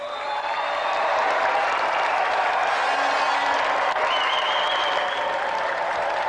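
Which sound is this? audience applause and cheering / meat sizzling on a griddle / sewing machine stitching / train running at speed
audience applause and cheering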